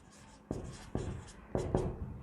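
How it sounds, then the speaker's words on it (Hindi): Chalk strokes on a board, four distinct scratchy taps and scrapes spaced about half a second apart, close and clear with no talking over them. "न्यूमरेटर को लिख देना है"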